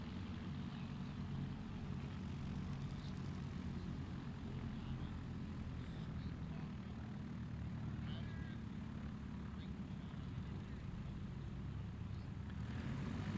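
Propeller airplane flying at a National STOL competition in Central Florida, a steady droning engine heard from a distance throughout, with crowd and wind noise.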